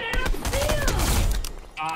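Bursts of video game gunfire crackle in a rapid fusillade, loud and close, over excited voices talking during the firefight.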